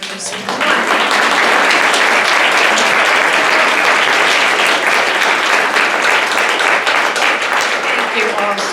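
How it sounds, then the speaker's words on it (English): Sustained, loud audience applause at an indoor ceremony for incoming trustees and officers, a dense, steady wash of many hands clapping close by throughout, with no talk over it. "Let's have another round of applause for this."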